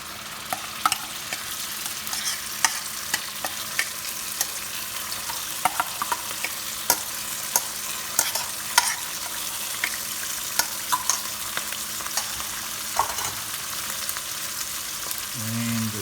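Kadai sauce stir-frying in oil for kadai chicken, a steady low sizzle with frequent sharp clicks and scrapes of a spoon against the pan, close and moderately loud, running without pause.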